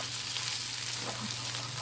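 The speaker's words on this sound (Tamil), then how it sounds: "உப்பு சேர்த்துட்டு எல்லாத்தையும் ஒன்றா நல்லா நம்ம மிக்ஸ் பண்ணி விட்டுக்குவோம்" Baby potatoes and egg for poriyal sizzle in a pan as they are stirred together, a steady close frying hiss.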